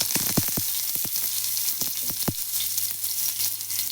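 Stuffed green chillies are dropped into hot oil on a flat pan, setting off a steady sizzle and crackle with a quick burst of sharp pops and spits early on, close and alone with no talk.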